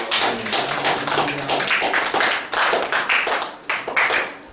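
A church congregation claps in fast, rhythmic applause that keeps a steady beat, loud and close, with no talking.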